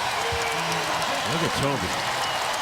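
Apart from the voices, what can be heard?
basketball crowd applauding player coming to bench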